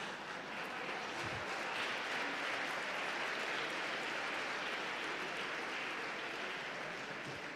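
Seminar audience applauding a speaker, a long, dense, steady burst of clapping from a large crowd in a hall.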